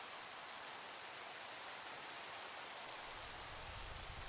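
Continuous rainfall in Minecraft with the TerraFirmaGreg modpack, a dense, even hiss of falling rain holding steady throughout, faint and unbroken, with a slight low rumble swelling near the end.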